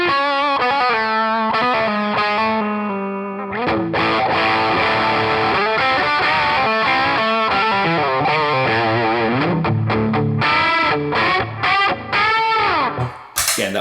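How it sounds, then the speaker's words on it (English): Electric guitar played through the distortion channel of a NUX Cerberus multi-effects pedal, loud and saturated, with sustained chords giving way to busy riffing and lead runs, sounding alone and close. "a distortion pedal"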